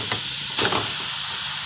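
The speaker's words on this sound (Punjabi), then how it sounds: "ਹੁਣ ਅਸੀਂ ਨਾ ਇਹਦੇ 'ਚ ਨਾ ਗਾਜਰਾਂ ਪਾਉਂਦੇ ਹਾਂ ਕੜਾਹੀ ਦੇ ਵਿੱਚ" Grated carrots dropped into a hot kadhai for gajar ka halwa, a loud sustained sizzle and hiss with a brief burst as they land, no voices.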